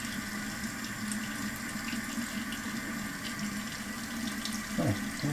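Hot water runs steadily from a tap into a sink, a constant close rushing hiss that carries on throughout with no talking.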